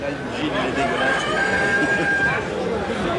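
A rooster crows partway through at a crowing contest with 164 roosters entered, its drawn-out call rising over lively crowd chatter and people talking nearby.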